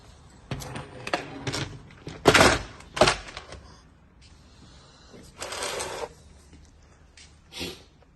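Rocker cover bolts being tightened on a 2020 Mercedes S-Class engine: close bursts of ratcheting and mechanical clicking in several uneven spurts separated by brief pauses, with no speech.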